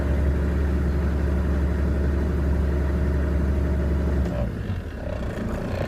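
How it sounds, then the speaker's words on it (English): A 2003 Toyota Land Cruiser 70 Troop Carrier diesel with about 300,000 km idles steadily and smoothly up close with an even, throbbing low rumble, dipping slightly just before the end. "Nice sounding engine for a diesel, very smooth."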